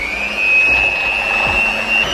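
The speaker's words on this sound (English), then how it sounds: "we want to mix this with an electric mixer until it's a caramel consistency" An electric mixer whirs steadily while beating butter and sugar into a caramel-like batter during autumn festive baking, a constant high motor whine held close and fairly loud with no talking.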